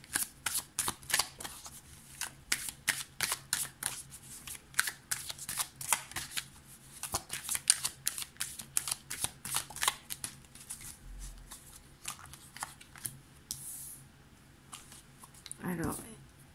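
A deck of tarot cards being shuffled by hand, a long run of quick crisp riffling flicks at a steady pace, close and soft, ending with a brief rustle.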